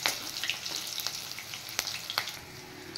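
Slit green chilies frying in hot oil with panch phoron, a steady crackling sizzle dotted with sharp spitting pops, close and moderately loud.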